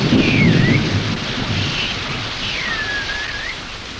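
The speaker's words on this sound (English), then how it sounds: "In the tropics, rain comes swiftly and heavily, and streams may flood in a flash." Heavy tropical rain pours steadily with a deep rumble of thunder underneath, loud and continuous throughout, with a faint whistling tone gliding above the downpour.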